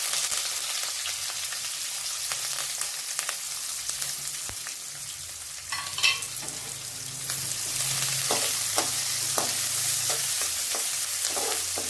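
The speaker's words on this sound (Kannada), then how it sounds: "ಬೆಳ್ಳುಳ್ಳಿ ಸ್ವಲ್ಪ ಕೆಂಪಾದ್ಮೇಲೆ ಕರಿಬೇವನ್ನು ಹಾಕೋರಿ. ಮತ್ತು ಈರುಳ್ಳಿಯನ್ನು ಕೂಡ ಹಾಕೋರಿ." Garlic, curry leaves and onion sizzle steadily in hot oil for palak rice, with intermittent scraping and stirring strokes in the pan throughout and a brief clatter midway; no one speaks.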